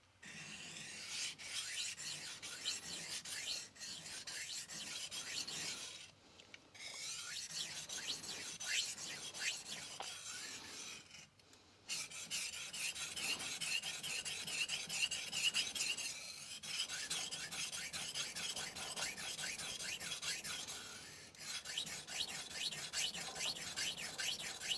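A kitchen knife is sharpened on an HK Knife Works 1K vitrified diamond whetstone, making repeated gritty scraping strokes back and forth with brief pauses between passes, close and fairly quiet.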